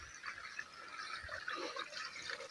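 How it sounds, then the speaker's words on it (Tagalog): Water flows into a rice paddy being prepared in a field, a faint steady trickling hiss with soft splashy fluctuations, quiet and continuous throughout. "ito ang tubig."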